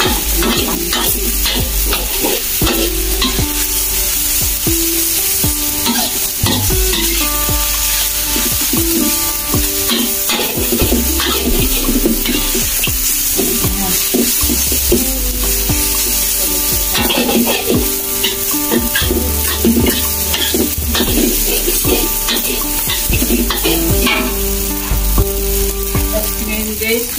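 Bihon rice noodles sizzle and fry loudly in a pan, with steady hissing and constant stirring and scraping throughout, close and dense with no pause.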